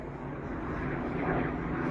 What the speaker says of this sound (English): Or helicopter, not airplane.